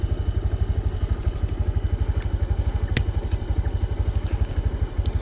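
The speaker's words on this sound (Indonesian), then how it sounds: "Motornya jalan sendiri." Motorcycle engine running steadily with a fast, even pulsing beat, loud and close throughout, with a few faint clicks and rattles on top and no talking.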